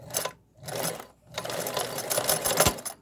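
Kenmore 1750 sewing machine stitching with cams in bursts of dense mechanical clatter, pausing briefly between runs, close and loud.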